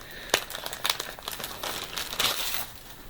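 Plastic wrapping is pulled off a fabric project box, crinkling and crackling up close in several quick bursts over a few seconds, with no voices.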